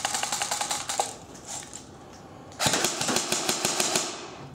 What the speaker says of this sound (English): go ahead and test fire it